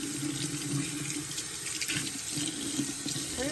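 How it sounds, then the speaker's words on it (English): Very hot water runs steadily from a tap through a dishwasher filter in a home kitchen, a continuous close splashing rush with no voices. "Running super hot water through it."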